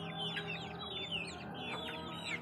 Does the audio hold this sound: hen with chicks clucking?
yes